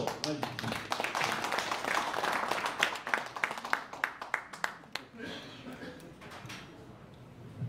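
Applause at a New Year reception of a patriotic leaders' association, a crowd clapping in a dense patter that thins into scattered individual claps before fading, with some talk in the room.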